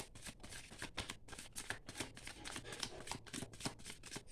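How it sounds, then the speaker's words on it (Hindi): A deck of Osho Zen tarot cards is shuffled by hand in a rapid, continuous run of soft riffling slaps, close and quiet, with no talking. "Let me shuffle."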